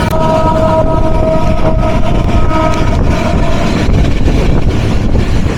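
The Kurigram Express from Rangpur to Dhaka running through Panchbibi railway station, heard from on board as a loud, continuous rumble with a sustained horn-like tone during the first few seconds.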